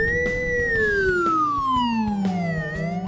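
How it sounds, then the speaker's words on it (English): An ambulance siren wails loud and close behind a car on a one-lane road, its tone sliding slowly downward, steady and without voices. "You got ambulance behind you, is it? Yeah! You're on siren."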